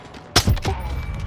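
Gunfire in the Warzone video game, a single sharp close shot followed by a brief echoing tail.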